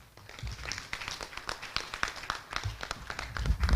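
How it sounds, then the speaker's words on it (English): Audience applause at a formal Ghanaian pension conference follows a deputy minister's speech, with many hands clapping in a brisk, scattered patter at moderate distance across the room. "A big round of applause again for Mr. Bryce Rekubrobe, our Deputy Minister for Employment and Labor Relations."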